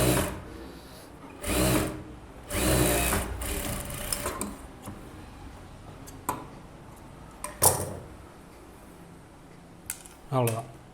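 A sewing machine stitching a blouse runs in several short bursts of rapid whirring, separated by pauses and small clicks of fabric handling, close and clear.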